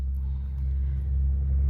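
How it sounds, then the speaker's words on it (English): Road traffic passing out front of a house, a steady low rumble of cars and trucks that slowly swells, heard indoors with no one speaking. "I'm sorry for the traffic noise today."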